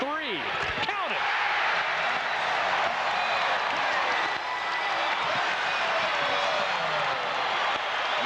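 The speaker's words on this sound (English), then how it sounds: "the crowd making some noise at Assembly Hall" A large crowd at Assembly Hall roars and cheers continuously during a Michigan at Illinois college basketball game while a commentator talks over the din, with a brief squeak early on.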